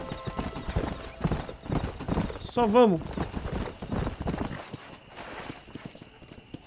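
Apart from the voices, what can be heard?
horses galloping in race, video game Red Dead Redemption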